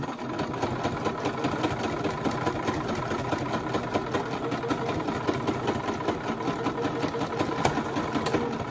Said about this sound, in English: the sewing machine